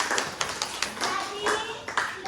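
A classroom of students clapping hands, a brisk patter of claps with a few sharper taps, fairly close and moderately loud, with voices mixed in.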